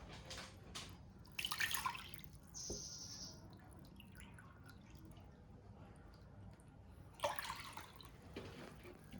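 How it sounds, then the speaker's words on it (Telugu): Two cups of water poured into a bowl for ganji dosa batter, heard as a few short splashy bursts and drips separated by quieter room noise, with a longer pouring burst near the end. "ఒక బౌల్ తీసుకొని అందులో ఒక 2 కప్పులు వాటర్ తీసుకుందాం."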